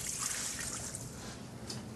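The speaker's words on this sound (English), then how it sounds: "I'm just gonna add a little bit of water." A little water poured over pork ribs in red wine, a soft continuous trickle close by with steady splashing throughout.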